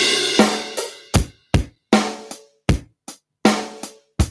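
A one-bar fill on a drum kit: a dozen or so close, loud single hits on drums spaced in a steady rhythm, each ringing out briefly and decaying before the next stroke.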